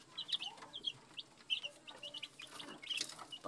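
Sweater breed chickens in a backyard coop cluck and chirp in short, repeated bursts at close range, with soft farmyard background noise and no talking.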